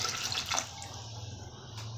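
Water pours steadily into a pressure cooker holding raw mango pieces in a kitchen, a close, hissing splash that tapers off after the first second; no one speaks.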